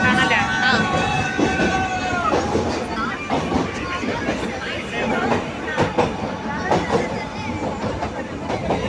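A Nilgiri Mountain Railway toy train at Ooty rumbles and clatters along the tracks, with rhythmic clicks and squeals echoing as it passes through a tunnel; faint chatter in the background.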